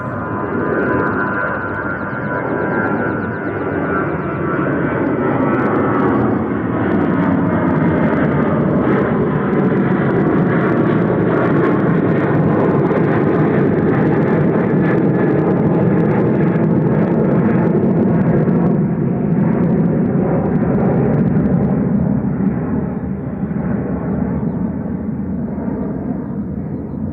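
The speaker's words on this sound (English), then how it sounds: "Ryanair to Berlin with flight 1145. It's the Evo" A Ryanair jet departs Manchester Airport for Berlin with a sustained, heavy rumbling roar that stays loud and steady for nearly half a minute, its pitch slowly shifting as it passes, with no speech.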